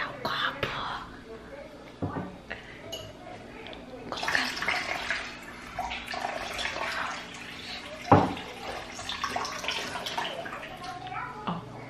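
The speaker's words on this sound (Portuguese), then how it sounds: "Coloquei um pouquinho de água, pra ficar bem forte a pigmentação." A little water is poured to mix guava juice, giving intermittent close splashing and trickling amid soft household noise, while a voice talks quietly at times.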